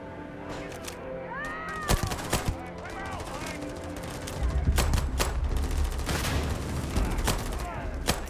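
Rapid bursts of gunfire in the video game Starfield crackle in sharp volleys, with a heavier rumbling stretch of shots midway and voices talking underneath.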